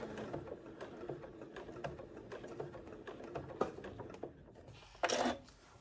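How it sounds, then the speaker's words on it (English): A sewing machine stitches around a fabric tree shape, its rapid mechanical whirring stopping and starting in short bursts at the corners, close and quiet, ending with a louder brief rustle. "stopping and starting at my corners so that I can stitch all the way around this tree shape"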